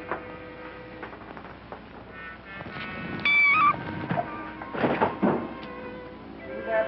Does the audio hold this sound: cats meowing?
yes